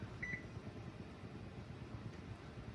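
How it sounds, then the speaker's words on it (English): Two quick, high electronic beeps from a kitchen timer sound near the start over a steady low mechanical hum that continues to the end. "Let me set a timer."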